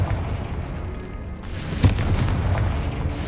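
A Confringo explosive spell bursts in Hogwarts Legacy with one sharp, loud boom followed by a rumbling tail, set against steady game ambience.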